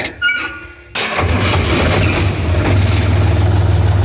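A Jinma 264RE mini tractor engine cranks and catches after a brief quiet pause, then runs at a steady, throaty idle, loud and close.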